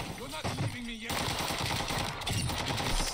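Automatic gunfire from the Warzone 2 video game on the Ashika Island map, with dense rapid bursts running nearly continuously, loud and close, while a player speaks over it.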